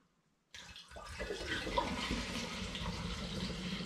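Cider pours steadily through a funnel into a demijohn after a brief quiet start, a continuous splashing, gurgling rush that holds close and fairly loud to the end.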